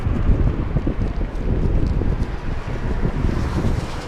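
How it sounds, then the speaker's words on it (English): A strong gust of coastal wind near Malibu, California, buffets the microphone outdoors, a loud, continuous roaring rush that swells and dips without letting up. "Oh man, that's a big gust of wind."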